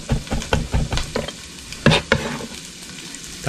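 Chopped onion and garlic frying together in a pan, a close steady sizzle broken by bursts of stirring scrapes, with no talking.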